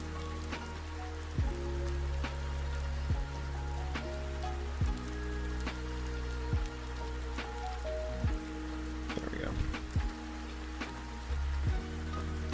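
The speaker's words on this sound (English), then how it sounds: "rainy day today, so I have the background rain going" Steady background rain falls on a surface on a dreary day, a continuous wash of patter with recurring low tonal thumps and music-like tones layered over it, no talk.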